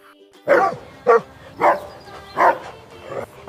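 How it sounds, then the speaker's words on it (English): A dog barks five times in an even rhythm, loud and close, as part of a children's phonics song, each bark short and clear. "D for dog"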